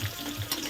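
Chana dal, urad dal, cumin, mustard seeds, curry leaves, dried red chillies and asafoetida tempering in hot oil give a brief, close, bubbling sizzle with small pops and no voices.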